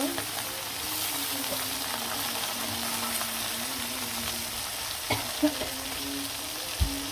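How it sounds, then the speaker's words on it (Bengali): Oil sizzles steadily in a pan as hilsa fish fry for a radish curry, a continuous close hiss with a low hum beneath and a few sharp clicks and knocks near the end. "আমি তেল বসাই দিলাম, আর মাছগুলা এক এক করে দিয়ে দিব, মাছগুলা ভেজে নিব"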